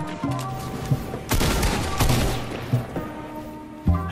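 Rockets and explosive weapons firing in Fortnite: loud bursts of blasts and rapid shots clustering in dense volleys with short gaps, close and harsh, alongside other game sounds.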